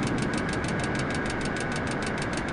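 An aircraft engine in a flight simulator game over Australia runs at a steady, rough drone with a fast rhythmic pulsing throb, moderately loud and unbroken, with no voices.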